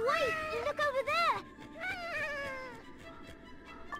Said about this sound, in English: A giant cat that lives only in the autumn forest.